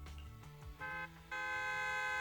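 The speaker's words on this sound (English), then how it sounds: "Loud honk echoes as several trucks with the Leaps and Bounds logo drive into the open area." Several trucks in the video game Zenless Zone Zero sound a loud horn in an open area, with sustained honks in two bursts over a low engine rumble.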